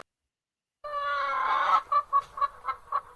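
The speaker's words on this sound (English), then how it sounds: "Let's play the chicken noise again." A chicken sound effect: one long, loud squawk followed by a quick run of rhythmic clucks, heard close and clear against silence.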